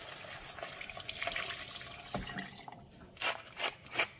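Water is added to a cooking pot of vegetable broth with zucchini on the stove, giving a few seconds of splashing and running liquid, with several brief louder splashes near the end.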